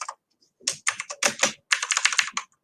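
Typing on a computer keyboard, close and clear, in quick irregular bursts of clacking keystrokes separated by brief pauses, with no talk.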